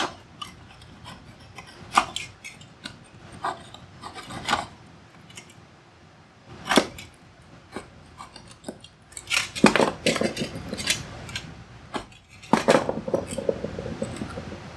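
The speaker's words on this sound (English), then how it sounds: "I'll just use a pull saw here to chop off the toothpicks I used." A pull saw trims off wooden toothpicks on a table built from a front door, giving short, rasping strokes in uneven bursts, some quick and scratchy, growing busier and louder toward the end, close up with no voices.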